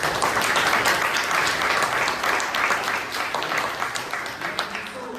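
Audience at a Bangalore Toastmasters club meeting claps in a full, close round of applause that starts strong and gradually tapers off.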